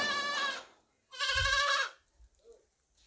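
A young female goat bleats twice in close, loud, drawn-out cries separated by a short pause, with faint farmyard noises after.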